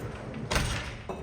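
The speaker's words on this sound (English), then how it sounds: "All right, pocket door there." A pocket door slides inside a house in a Detroit suburb, giving a soft rolling rush followed by a lighter knock near the end, heard at fairly close range in a quiet room.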